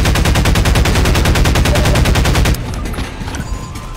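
Loud, evenly spaced machine-gun fire in Half-Life 2 running at only 11 updates per second, a rapid rhythmic stream of shots that cuts off abruptly, leaving faint low rumbling and scattered small impacts.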